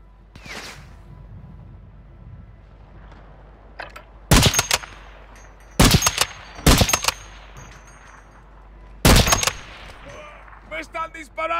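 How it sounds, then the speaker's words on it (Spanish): Bursts of automatic gunfire in Call of Duty: Modern Warfare II, four loud volleys spaced a second or two apart over quiet game ambience, followed by a few softer clicks and clangs. "están disparando"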